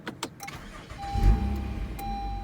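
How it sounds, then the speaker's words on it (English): A 2017 Honda Accord Coupe with a V6 starts up: a couple of starter clicks and a short crank, then the engine catches with a loud low burst and settles into a steady idle, heard close with the door open. "I will go ahead and start up the car"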